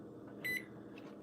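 A microwave oven in a home kitchen, during stir-fry cooking, gives a couple of short close electronic beeps near the start, then a sharper clatter at the end.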